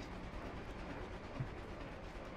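Faint, steady clattering and rumbling of a moving train in the Gang Beasts game, with a dull mechanical rattle throughout.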